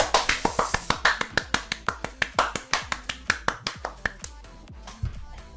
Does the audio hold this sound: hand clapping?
yes